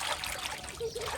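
Water pours and trickles while bombil fish are being washed, a soft continuous splashing stream close by that varies gently in strength throughout.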